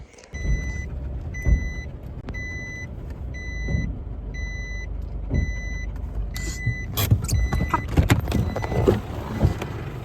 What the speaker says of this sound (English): Stop headbutting the car!